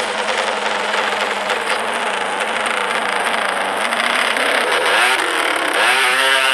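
A motorcycle engine at a race drones steadily and loudly, then revs up and down in rising and falling sweeps near the end, with no one talking.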